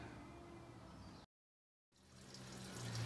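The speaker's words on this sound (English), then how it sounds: "got some coolant running out of it" Coolant drains from a Dodge/Chrysler 5.7L engine into a large drain pan during a water pump replacement, a steady close gushing stream that cuts out abruptly for a moment and then resumes, swelling louder.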